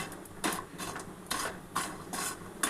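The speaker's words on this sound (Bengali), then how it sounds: "ঘিয়ের মধ্যে ম্যাগিটা ভেজে নেবো" Maggi noodles stirred while frying in a little ghee, bright scraping strokes of a utensil against the pan recurring every second or so over a soft background sizzle, close and moderately loud.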